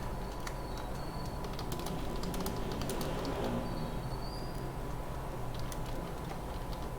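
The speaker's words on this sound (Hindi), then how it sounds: "फॉर एग्जांपल हम यहाँ कुछ भी टाइप करते हैं" Faint, rapid keystroke ticks on a computer keyboard, typed while working with the Type Tool in Adobe Illustrator, sit over a steady low room hum with no talking.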